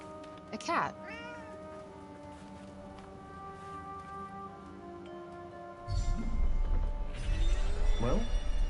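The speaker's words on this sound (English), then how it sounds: "A cat." A cat meowing in the video game Forspoken, a couple of short, rising mews near the start over a quiet ambient bed of music, then a rumbling noise and another faint meow near the end, with talking in between.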